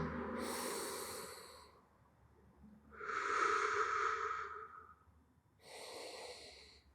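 Slow, deep breathing during a mobility stretch in a jiu-jitsu routine: three long, audible breaths, each a loud airy inhale or exhale with a nasal, snort-like edge, separated by short pauses and with no talking.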